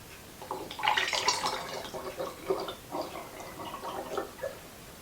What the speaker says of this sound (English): Very carefully pouring this all over the table.